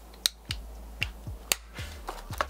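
Sharp plastic clicks as attachments snap onto a Philips Series 3000 HC3510 hair clipper, about eight crisp snaps at uneven intervals, close and clear against a quiet background.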